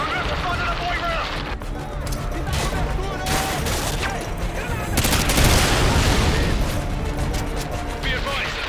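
Heavy gunfire from militia in Call of Duty: Modern Warfare 2 crackles in dense bursts through a market area, rapid automatic shots and booms layered near and far, with shouted voices mixed in.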